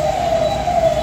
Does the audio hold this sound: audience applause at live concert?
no